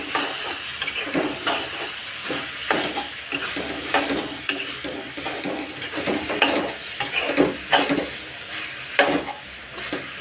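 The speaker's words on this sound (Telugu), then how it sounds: "ఇప్పుడైతే నేను మొత్తం కలుపుకుంటాను" Meal maker (soya chunk) curry is stirred in a pan, with a spoon scraping the pan in a steady repeated rhythm over a soft, continuous sizzle, close up and without voices.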